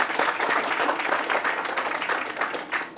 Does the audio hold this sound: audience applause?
yes